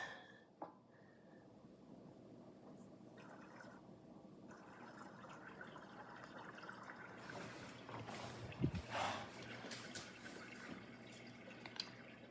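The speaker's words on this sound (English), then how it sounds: "The creek sounds I recorded at Salt Fork Lake" Creek water at Salt Fork Lake flows and trickles in a steady, soft outdoor wash, with a brief louder splash or knock partway through and no voices.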